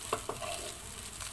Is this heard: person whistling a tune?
no